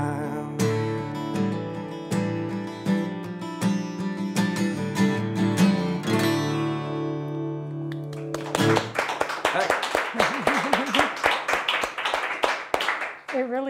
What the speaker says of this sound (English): It really does make it so much better when I hear that applause